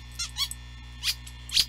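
A dog's squeaky toy squeezed by hand, giving four short high-pitched squeaks spaced irregularly, close and fairly loud against a quiet room with a faint steady hum.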